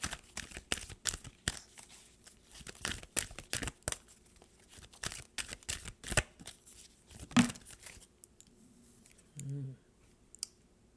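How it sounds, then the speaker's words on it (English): Large oracle cards are shuffled by hand, giving a rapid run of crisp papery clicks and slaps in an irregular rhythm, close and fairly loud, before it trails off into a quieter stretch with a brief low hum. "You go from a certain size of shuffling and then you get these big ginormous cards"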